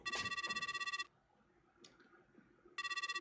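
Electronic telephone ringtone while calling the police in a haunted house video game set in a Japanese haunted property, a pulsing ring that plays, stops for nearly two seconds, then starts again, loud and alone.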